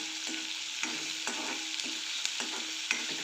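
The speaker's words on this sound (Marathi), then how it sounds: "छान लालसर होईपर्यंत कांदा आपल्याला परतून घ्यायचा आहे" Onion sautéing in a pan until reddish makes a steady, soft sizzle punctuated by regular spatula scrapes and taps roughly every half second, alone without talk.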